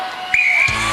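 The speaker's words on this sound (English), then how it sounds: "Ingrid, you will go on my first whistle." A referee blows a single sharp start whistle at a Gladiators event, a bright sustained blast lasting about a third of a second, loud and close over arena noise.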